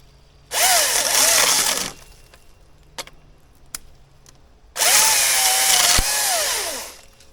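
An Echo DCS-2500T 56-volt battery electric chainsaw cutting wood in two loud bursts of high whining buzz, each a second or more long, with a few sharp clicks and knocks in the quiet gap between.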